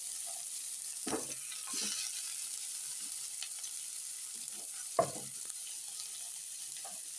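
Faint, steady sizzle of onions and chillies frying in a pan, with a couple of brief clatters of stirring; no voices.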